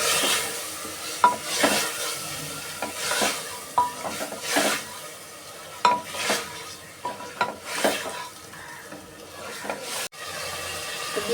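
Chicken biryani being sautéed in a pan, with repeated spoon scrapes and clinks against the metal over a soft sizzle, in irregular strokes close to the listener.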